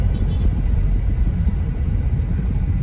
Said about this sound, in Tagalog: Grabe yung sasakyan, ang bilis.